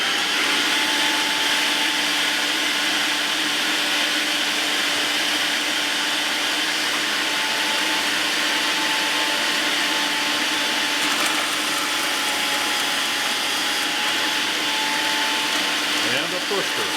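An 800-watt GoWise electric meat grinder runs steadily throughout, a loud, continuous motor whine with a broadband hum and whirring overtones, similar to a hand vacuum, holding constant without pauses.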